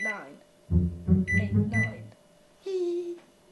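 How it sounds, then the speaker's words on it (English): A microwave oven's keypad beeps and whirs, with a steady hum near the end; a voice talks briefly before it starts. "This is the microwave."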